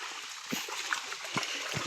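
Feet splash and slosh through a shallow river in a rural Konkan village, with soft, irregular splashes over a steady faint trickle of flowing water.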